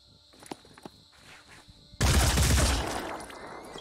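Burst of gunfire in the turn-based strategy game Phoenix Point, erupting loud and sustained after a quieter stretch of faint footsteps and clicks.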